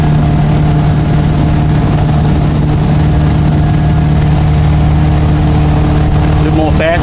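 Boat engine holds a loud, steady droning hum under throttle, close and continuous, with a brief rattle at the very end.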